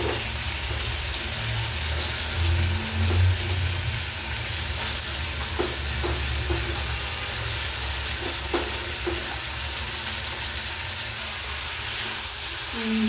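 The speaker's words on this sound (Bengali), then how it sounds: "আমি এরপর কেটে রাখা লাউটা দিয়ে দেবো" Chopped bottle gourd tipped into frying masala in a pan for a fish-head gourd curry, a dense, loud, continuous sizzle with faint stirring scrapes and occasional soft knocks.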